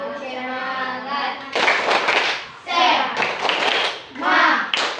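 Schoolchildren in an Indonesian classroom perform the rhythmic 'tepuk semangat' clapping chant. Sung voices come first, then loud bursts of group clapping mixed with shouted chanting, in rhythmic waves.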